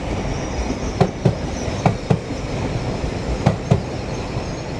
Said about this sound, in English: Passing now is your 1614 LNER Zoomer service from Leeds through to London King's Cross